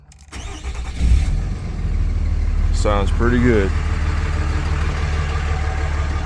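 A Dodge truck engine cranks, catches after about a second and settles into a loud, steady idle, with someone speaking briefly over it.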